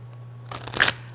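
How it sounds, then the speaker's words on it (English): Tarot cards shuffled by hand in a short riffle burst, a couple of quick papery flurries under a steady low hum, fairly close and moderately loud, with no talking. "so let's get a quick shuffle"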